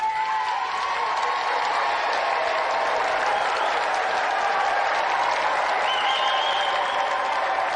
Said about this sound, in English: Round of applause for Cathy Dennis.